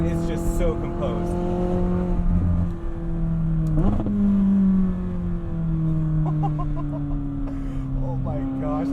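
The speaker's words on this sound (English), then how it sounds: "driving the 600LT Spider with the top down" A 2020 McLaren 600LT Spider with the top down takes a corner, its engine note holding a steady, loud drone that dips and swells as it settles through a compression and turns right, with brief tire noise and voices underneath.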